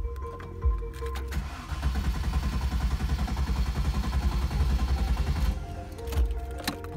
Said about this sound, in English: check out the sound of the engine.